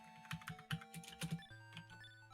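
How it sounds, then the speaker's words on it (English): Computer keyboard typed on during a programming session, a few quick, faint clicks over steady tonal music. "So you're gonna hear me typing because I'm programming."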